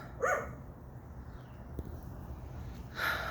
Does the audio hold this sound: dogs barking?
yes